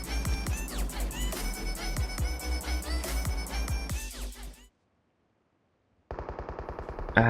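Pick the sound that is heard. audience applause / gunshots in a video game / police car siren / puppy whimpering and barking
gunshots in a video game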